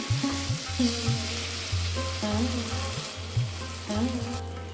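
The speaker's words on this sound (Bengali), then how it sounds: "পেঁয়াজটা দেখুন ভাজা ভাজা হয়ে এসেছে এবারে আমরা যে পেস্টটা বানিয়ে রেখেছিলাম সেই পেস্টটা এর মধ্যে দিয়ে দিচ্ছি" Spice paste is added to onions frying in a pan for a soybean dish, a steady sizzle with intermittent stirring scrapes, heard alongside a tonal background.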